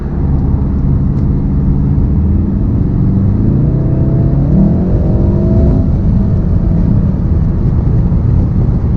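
Volkswagen Golf R MK7 accelerating hard from inside the cabin, a loud continuous engine drone whose pitch sweeps upward and steadies, with no talking.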